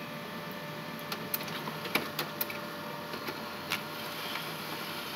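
HP LaserJet Pro 200 laser printer printing a page, quiet steady mechanical whir with several faint clicks and ticks, heard alone at low level.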